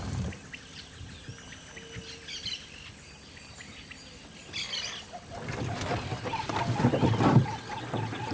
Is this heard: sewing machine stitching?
no